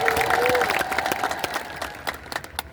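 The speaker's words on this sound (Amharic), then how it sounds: "እስኪ አጨብጭቡ።" A church congregation at an evening preaching service claps together, a dense close wash of applause that thins out over a few seconds while a voice speaks over it.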